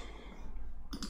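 A single sharp mouse click sounds near the end as a publish button is pressed on a computer, close and brief after a quiet hum.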